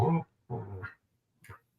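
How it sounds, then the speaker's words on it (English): A dog gives three short, quiet whimpering or whining sounds: two longer ones close together, then a brief final one, with no one talking over them. "That's a dog. I was wondering what that was"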